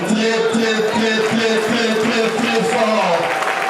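A crowd at an 85th birthday celebration claps in a dense, loud wash close around, with voices and cheering mixed through the steady applause.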